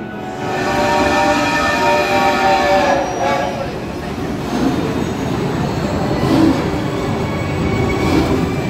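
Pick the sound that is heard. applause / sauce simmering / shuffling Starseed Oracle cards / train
train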